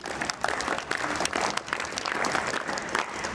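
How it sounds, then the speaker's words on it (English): An audience applauds at a residential school's investiture ceremony, a steady, dense clapping that fills the hall from start to finish. "Please give a huge round of applause for gracing this occasion."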